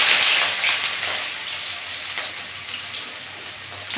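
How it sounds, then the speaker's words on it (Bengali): A handful of chopped garlic goes into hot oil already tempered with black cumin seeds, giving a loud, close, continuous frying hiss that crackles unevenly throughout. "দিয়ে দিচ্ছি 1 মুঠো রসুন কুচি"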